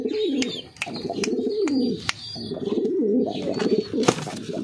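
A male pigeon coos close by in steady, repeated rolling phrases, with light sharp clicks and faint chirps over a constant low background murmur.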